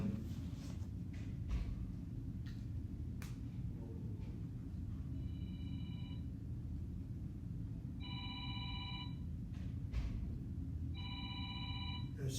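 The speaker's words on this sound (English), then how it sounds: "It's probably my cell phone, don't worry about it." A cell phone rings in the background of a Hebrew lesson, short electronic ring bursts repeating three times at regular intervals over a low steady room rumble, moderately faint.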